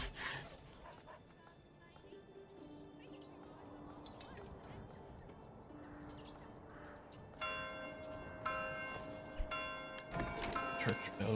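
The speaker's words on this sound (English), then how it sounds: "Church bells, they ring." Church bells ring inside the medieval village-building game Manor Lords, sustained tolling tones layered over game ambience with sawing and wood sounds, swelling louder in the final seconds.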